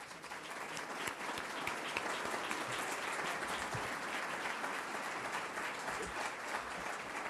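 Sustained applause from an audience thanking panelists at a community forum on neighborhoods and children, even dense clapping throughout, moderately distant and without talk.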